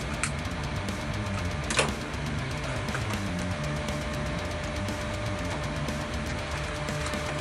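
A sewing machine stitches a backpack strap onto 5 cm webbing for a 50-litre roll-top pack, running as a steady, dense mechanical whir with rapid repeating needle strokes throughout and one brief sharp clack midway.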